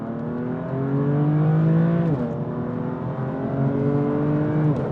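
BMW M4 CS with a Tom Wrigley Performance single mid-pipe and M Performance back box, engine droning loud and steady under load, pitch rising through a gear before a sharp shift drop and another climb.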